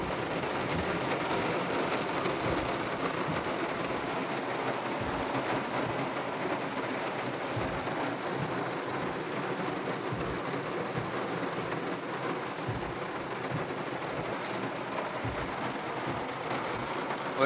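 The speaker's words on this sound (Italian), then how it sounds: "E adesso vi faccio vedere dalla macchina come piove." Heavy rain pours onto a car from outside, a dense, continuous hiss with soft irregular thuds, heard from inside the vehicle with no talking.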